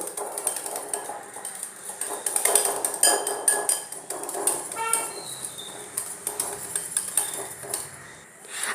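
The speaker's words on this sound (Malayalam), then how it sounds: "നന്നായിട്ടൊന്ന് മിക്സ് ചെയ്തോളൂ" A spoon scrapes and clinks against a bowl while a kulfi ice cream mixture made with fresh cream and cardamom powder is stirred. The clatter is close and irregular, with metallic taps throughout and no speech.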